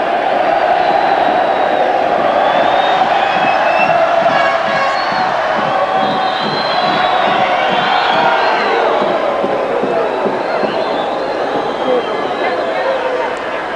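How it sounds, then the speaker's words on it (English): A football stadium crowd at a 1990 Recopa Sudamericana match between Boca and Atlético Nacional, with Colombian supporters roaring, chanting and whooping in a loud sustained swell that rises and falls with rhythmic pulses of cheering. "that's got the crowd excited now, or at least the Colombian contingent"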